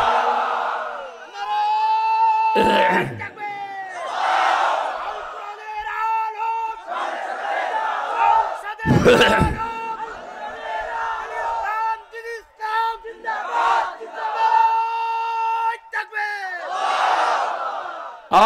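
A large sermon crowd roars a takbir chant in unison, loud repeated waves of massed voices rising and falling, with a single leading voice calling between the crowd responses.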